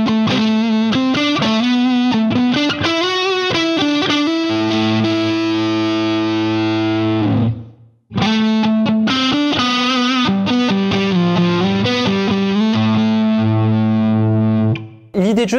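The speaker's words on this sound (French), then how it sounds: "on entend vraiment la différence de couleur entre le dorien qui est un petit peu plus lumineux et l'éolien" Distorted electric guitar plays a fast melodic run in the Dorian mode, then holds a sustained note, pauses briefly and plays another run in the Aeolian mode ending on a held note.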